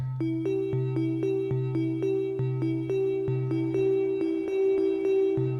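A singing bowl is struck repeatedly in a steady rhythm, processed through a reverb recorded in a stairway in Spain, each ringing tone sustaining and overlapping in a long, echoing reverberation.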